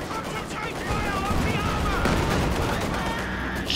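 In Company of Heroes 2, flak half-tracks pour out a dense, rapid stream of gunfire: overlapping bursts in a loud continuous barrage, with a shouted voice briefly cutting in.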